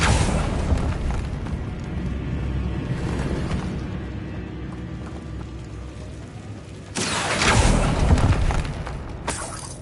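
A Confringo blasting curse goes off in a Harry Potter video game as a loud, rumbling explosion with a heavy low boom, followed by a second burst of crackling debris and roar a few seconds later.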